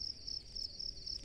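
A field cricket chirps in a mung bean field at night, hidden under straw, giving a regular series of short, high, fairly faint trills repeating about four times a second over low background noise.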